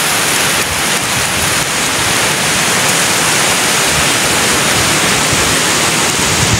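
Heavy rain pours down over the mountains in a steady, dense roar with no pauses, loud and close throughout.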